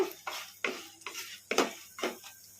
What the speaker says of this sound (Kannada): ಈಗ ಇದಕ್ಕೆ ಧನಿಯಾ ಹಾಕೋಣ, ಕಲಸ್ಕೊಂಬಿಡೋಣ.